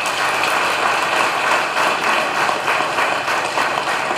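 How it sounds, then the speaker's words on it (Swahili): Applause at a political rally, a dense continuous rattle of many hands clapping at close range, loud and steady without speech. "naomba mumpigie makofi mengi sana mwenyekiti wetu"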